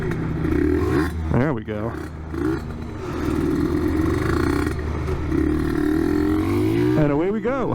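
A Yamaha TZM50R motorcycle with a 49cc engine is fired up using its electric starter button, then idles and revs with a steady throaty buzz beneath someone speaking close by.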